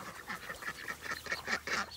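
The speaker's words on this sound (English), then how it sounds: "The ducklings." Ducklings peep and call in a quick, continuous chatter of small bird voices, fairly faint and close, with no talking over them.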